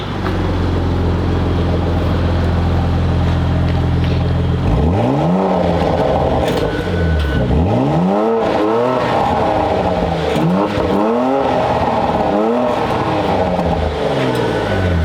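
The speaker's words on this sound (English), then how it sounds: "I'll get you guys some revs on this Macan" A 2017 Porsche Macan GTS engine idles with a deep rumble, then revs repeatedly, pitch sweeping up and dropping back in several loud bursts.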